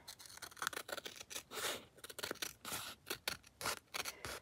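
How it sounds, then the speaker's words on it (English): Scissors cut through paper from a junk mail envelope and a book page in a quiet room, a close series of crisp snips and rustling slides repeating in an irregular rhythm. "Try to sort of cut it straight."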